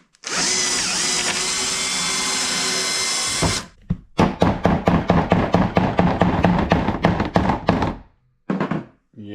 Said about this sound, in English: what we're going to do is just drill out the 6 to an 8